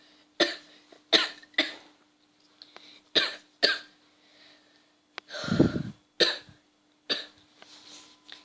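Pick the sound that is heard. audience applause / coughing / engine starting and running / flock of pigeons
coughing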